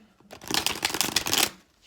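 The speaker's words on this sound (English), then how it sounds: "I'm going to do a little bit more shuffling" Tarot cards are shuffled in one brisk riffle, a close, crisp burst of rapid paper flicks that swells and then fades within about a second.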